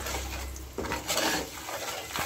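Ground spices (turmeric, chilli and coriander powder) being stirred and fried in a pan for pabda fish curry, with close scraping and clinking of a spoon against the pan over a soft sizzle, no talking.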